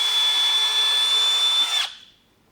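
A power drill bores a mounting hole for a fender extension on a 2023 Speed UTV El Jefe, a loud steady whine held for nearly two seconds before cutting off and spinning down, no talk.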